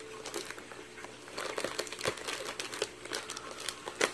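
Scissors cutting into crinkly plant swap packaging nearby, producing a run of soft crackling, rustling snips and crinkles.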